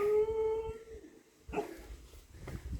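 A dog at a Thai cave temple gives a drawn-out, wavering howl-like bark, followed by more brief vocalizations after a short pause; it sounds moderately close against a quiet outdoor background.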